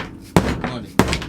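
A rubber mallet strikes a car part being loosened with dry ice, two solid, dull thuds spaced about half a second apart, close and fairly loud, with a soft knock between them.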